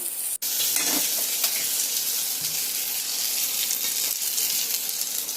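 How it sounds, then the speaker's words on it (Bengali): Nigella seeds and fresh coriander leaves fry in hot oil in a pan, a steady close sizzle with faint stirring scrapes and one brief dropout early on. "কালো জিরা দিয়ে দিয়েছি, ধনিয়া পাতাটা দিয়ে ভাজা ভাজা করে নিলাম"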